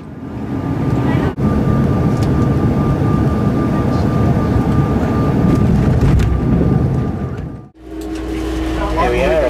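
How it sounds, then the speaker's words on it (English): A train rumbles along steadily with a loud, continuous mechanical roar, dropping away briefly near the end before a quieter hum continues. "Here we are on the railway train"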